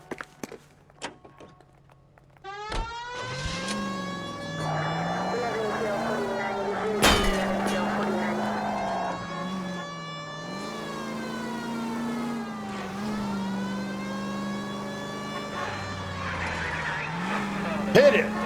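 A car engine in L.A. Noire starts up and drives, its loud harmonic drone rising and falling in pitch as it revs and shifts, holding steady and close for most of the stretch.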